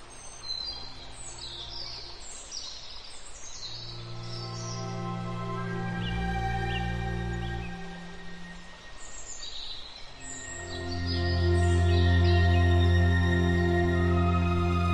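A European robin sings in a German outdoor setting, giving repeated high, thin melodic phrases that stay fairly faint beneath steady, louder background music through the whole stretch.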